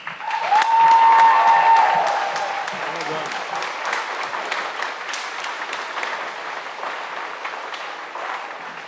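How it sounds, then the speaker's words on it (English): Audience applause at a community Americanism program honoring a senior high band and choir, a broad wash of clapping that swells early and then settles into a steady, sustained patter. "How about a nice round of applause?"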